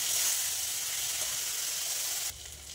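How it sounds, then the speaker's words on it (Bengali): A paste of chili, coriander and cumin frying in hot oil gives a loud, steady, close hiss of sizzling that drops suddenly to a quieter level near the end. "এবার মশলাটা ভালো করে কষাবো।"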